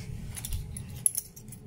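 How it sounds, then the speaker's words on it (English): Car keys jangling close by in a few quick metallic clinks and rattles, with a sharper chink near the middle, no talking. "I found the green car keys."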